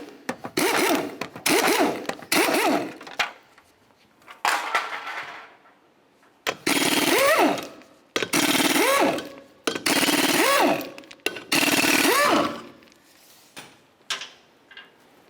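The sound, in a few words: impact wrench removing car lug nuts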